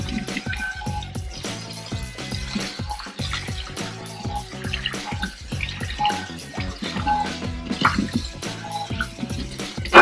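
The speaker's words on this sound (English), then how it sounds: "Rinse it off." Running water rinses a stainless steel pot in a sink, a steady splashing flow with drips and light metallic knocks close by, with no voices.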